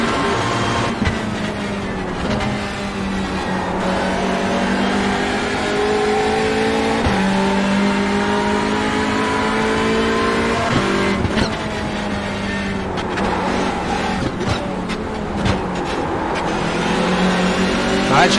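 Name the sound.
touring race cars driving in iRacing video game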